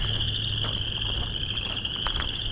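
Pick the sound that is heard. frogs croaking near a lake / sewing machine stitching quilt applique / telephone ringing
frogs croaking near a lake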